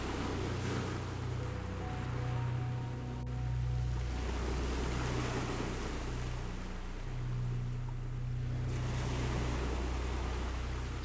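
Sea waves wash in and recede in a steady, rolling surge, mixed with wind noise that swells and fades over several seconds, with no voices.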